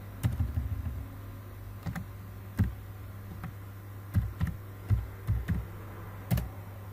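Keys tapped on a computer keyboard while a search term is entered into a Google application, heard as scattered clicks in short bursts over a steady low hum, close and fairly quiet, with no one speaking.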